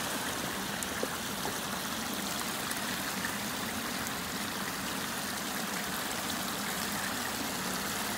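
Spring water spills from a small walled pond and runs down a mountainside on a wooded hiking trail in Alabama, a steady close babble and trickle that holds even and unbroken throughout, with no voices.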